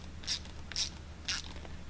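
A mud flap fastener on a 2020 Dodge Challenger Hellcat Widebody is tightened with three short, crisp ratcheting clicks spaced evenly, close by and quiet.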